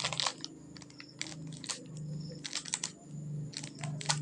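Scissors snipping through crinkly snack chip wrappers being cut up for recycling, making a run of sharp crackling bursts and rustles at close range with no talking.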